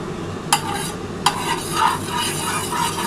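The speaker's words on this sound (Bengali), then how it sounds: "বন্ধুরা দেখো আমি কিন্তু খিচুড়ির সাথে কিন্তু ডিম ভাজা করছি।" An egg fries in a little oil in a pan, with a steady low sizzle and two sharp clinks of a utensil stirring against the metal, close and alone.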